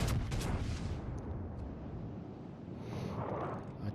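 Naval artillery fire from a warship in World of Warships, heard as a heavy opening boom with a long rumbling low tail that sustains and swells again near the end, with no talk.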